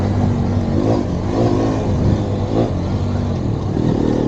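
Hero Xpulse 421cc motorcycle engine rising and falling in short revs during a quick downshift, loud and close over steady wind and road noise.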